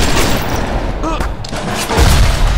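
Rapid bursts of gunfire from the video game BioShock, a loud dense fusillade with booming impacts that keeps going throughout, mixed with a voice speaking over it.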